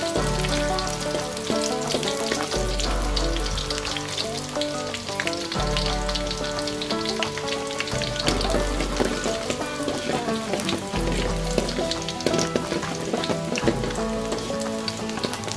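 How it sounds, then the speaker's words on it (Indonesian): Shallots sauté in hot oil for an Acehnese stir-fried oyster dish, giving a steady, dense sizzle and crackle that runs unbroken throughout at a moderate level, with tonal layers woven through it. "kalau minyaknya sudah cukup panas, langsung saja kita tumis bawang merah"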